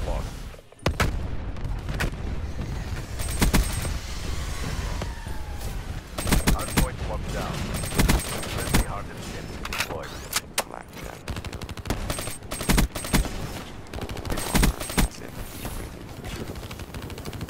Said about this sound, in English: I'll shoot a LMG